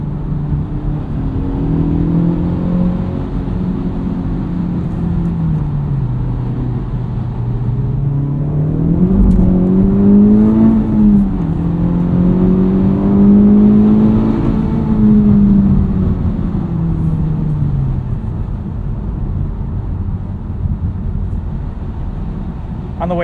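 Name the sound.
2023 Honda Civic Type R accelerating on the road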